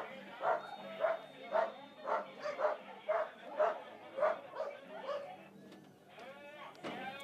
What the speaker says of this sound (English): Safely past the dogs, the rabid dogs.